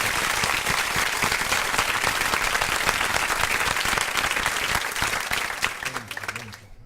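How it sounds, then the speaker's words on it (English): A round of audience applause for the mayor of Yonkers, steady dense clapping from a room of people that tapers off at the end. "we definitely want to give you a round of applause"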